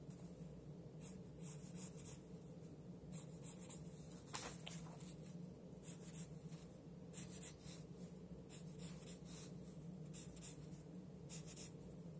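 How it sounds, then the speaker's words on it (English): Marker strokes rasping across paper while section lines are marked off on a figure drawing page, a string of short scratchy swipes in an uneven rhythm, close and quiet over a faint room hum. "I'm going to show them off with marker, but I'm not going to draw the whole line"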